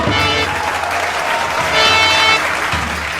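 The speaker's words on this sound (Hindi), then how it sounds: "आप लोग उनके स्वागत के लिए तालियां बजाना, तालियां" A crowd at a village stage show claps steadily to welcome an arriving minister, a dense, continuous wash of applause that swells briefly in the middle, with no voices rising above it.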